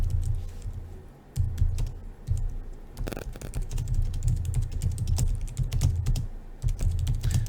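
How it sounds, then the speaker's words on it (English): Typing on a computer keyboard in steady, uneven bursts of close, clattering key clicks, broken by a few short pauses and heard alone without talk. "I'm just typing in here."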